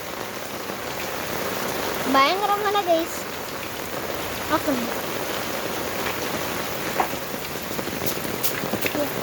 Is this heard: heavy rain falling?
yes